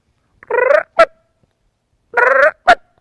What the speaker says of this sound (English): I see a turkey out there